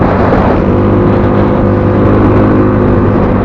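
A stock Yamaha Mio 54 motorcycle engine runs loud and close, holding a steady droning whir for a few seconds with no voices.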